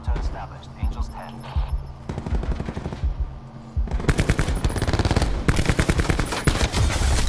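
Rapid automatic gunfire in Call of Duty: Black Ops 4, fast close bursts that grow denser and louder toward the end, with voice chat underneath.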